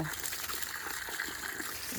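Water poured onto a garden plant to water and rinse it, a steady trickling splash running throughout at close range while a person talks over it.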